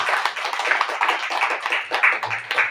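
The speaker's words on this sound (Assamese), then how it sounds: "বলা আমি তালি বজাই ঈশ্বৰক ধন্যবাদ।" Congregation clapping during a church service, a dense, steady burst of applause lasting a few seconds with no voices over it.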